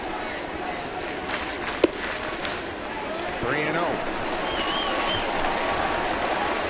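Baseball stadium crowd at a major league game in Toronto, a broad steady roar of cheering and applause with a brief whistle, under a commentator's voice.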